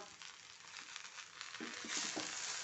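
Okra fries in a pan with a soft, steady sizzle while a few stirring scrapes come through, quiet and close with no voices.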